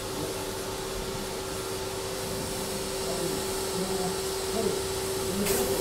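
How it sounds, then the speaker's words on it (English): A vacuum cleaner drones steadily as a conservation crew dry-cleans mold from a surface, a constant close whine that rises slightly toward the end. "First, we have to vacuum this mold"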